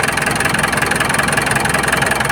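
A Mitsubishi Montero's 4D56U diesel engine idles up close, a loud, steady, rhythmic throb with a slight knocking edge and no talk over it.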